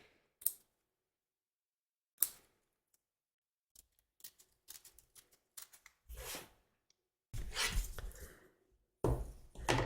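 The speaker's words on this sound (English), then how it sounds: "I'm just going to trim around the top of the heart to make sure that it's out the way" Scissors snip fabric around a heart shape in a series of short crisp cuts, sparse and quiet at first and then in denser bursts near the end, with no voices.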